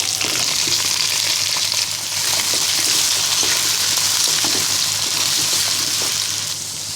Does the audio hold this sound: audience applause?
no